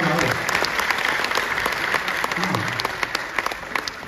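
An audience applauds at a Hindi comedy poetry recital, a thick wash of clapping that continues with sharper individual claps standing out as it thins, while a voice is briefly heard over it.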